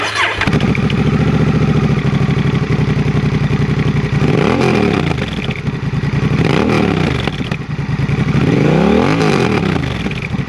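Honda Rebel 1100 motorcycle fitted with a TBR exhaust, loud and close, cranking and firing up into a steady, deep idle, with a few throttle blips rising and falling across the clip.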